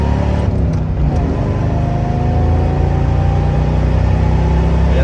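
A supercharged five-speed Crown Victoria engine runs under 7 pounds of boost, with a loud, steady, close-up drone and a slowly rising pitch, no voices.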